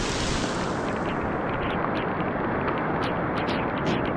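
Floodwater rushing during heavy rain, a loud, dense and continuous roar of water that stays unbroken from start to finish, with no voices.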